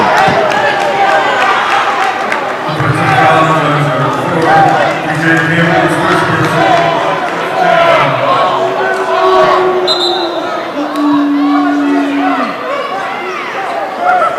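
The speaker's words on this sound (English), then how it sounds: "The crowd getting into it now." A crowd at a men's college basketball game against Montclair roars and murmurs in a sustained swell, with sneaker squeaks and ball noise mixed in, under continuous play-by-play commentary.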